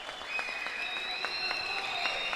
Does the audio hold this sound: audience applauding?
yes